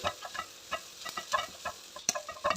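A spatula stirring egg masala with fried eggs in a pan, producing quiet, irregular scraping taps in quick succession over a faint sizzle.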